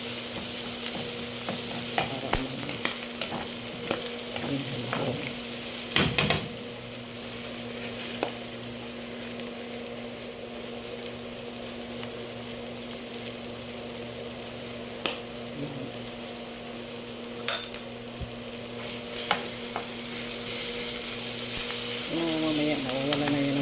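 Tomatoes sauté in a pan with shrimp paste and pork, giving a steady sizzle broken by scraping stir strokes and occasional sharper clatters of the spatula, with faint speech now and then.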